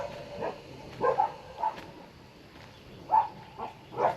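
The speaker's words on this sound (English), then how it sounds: "Those dogs are all bark and no bite." Dogs in the Vietnamese countryside bark in short, scattered bursts, several yaps spaced irregularly at moderate distance over a quiet outdoor background.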